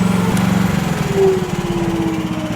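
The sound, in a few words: 1-ton Chinese mini excavator engine running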